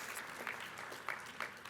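Audience applause at a technology alliance luncheon, a steady wash of many hands clapping that carries throughout at moderate level, with a few sharper individual claps standing out.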